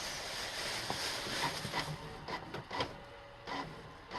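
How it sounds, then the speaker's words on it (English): A home printer running by accident, mechanical whirring and rhythmic clicks and clunks as paper feeds through, close and moderately loud, with irregular knocks toward the end. "Activated my printer."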